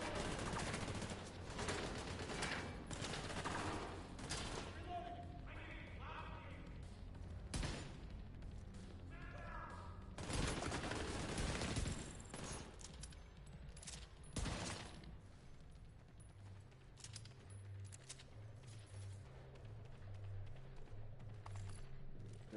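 Pistol gunfire in a video game: scattered sharp shots and short volleys, fairly faint, mixed with mechanical clatter and low background game noise over the stretch.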